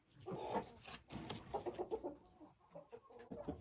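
Chickens and a turkey hen cluck and murmur while feeding on crushed shells, with short irregular calls overlapping close to the microphone.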